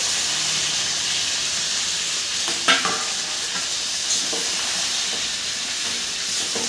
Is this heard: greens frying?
yes